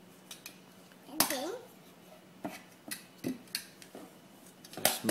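Fried plantains smashed flat for tostones: a few sharp knocks and clatters of a utensil against a plate or board, spaced irregularly and fairly close, with quiet background sound between them.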